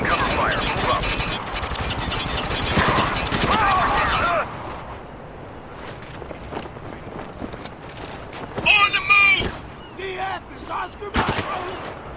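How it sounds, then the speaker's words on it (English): Gunfire from a squad laying covering fire in the video game Spec Ops: The Line, dense bursts of shots over the first four seconds, then scattered shots under shouted voices. "Laying cover fire, move up!"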